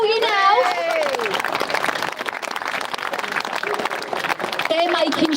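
A crowd at a street protest in Braintree, Essex, clapping and cheering in a sustained ripple of applause with whistles and shouts mixed in, close and fairly loud throughout.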